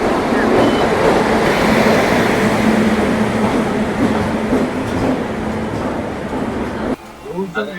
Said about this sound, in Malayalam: നമുക്ക് ഇവിടെ നിന്നാണ് ട്രെയിൻ വരുന്നത്.